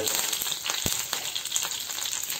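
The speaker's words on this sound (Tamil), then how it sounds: "எண்ணெய் காயும் போது ஜஸ்ட்டு கருவேப்பிலை போடுங்க கறி லீவ்ஸில்" Curry leaves dropped into hot coconut oil on a tawa crackle and sizzle up close, a bright steady frying hiss broken by a few sharp pops.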